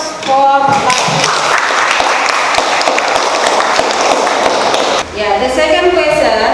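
Students in a classroom break into a burst of applause that lasts several seconds, with a teacher's voice heard around the clapping.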